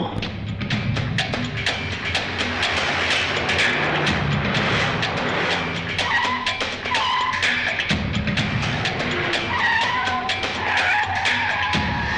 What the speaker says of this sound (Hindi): बल्लू, गाड़ी निकालो